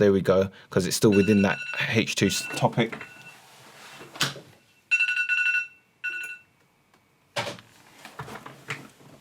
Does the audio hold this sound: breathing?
no